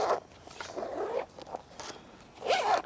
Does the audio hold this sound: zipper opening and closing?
yes